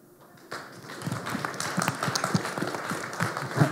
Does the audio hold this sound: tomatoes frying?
no